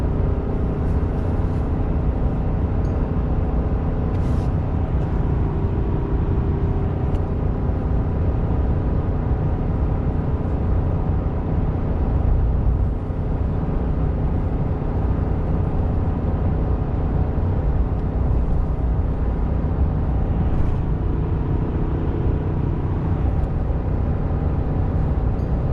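A 2019 pickup truck cruising in fifth gear while towing, its engine and road noise forming a steady, loud, even drone inside the cab for the whole stretch.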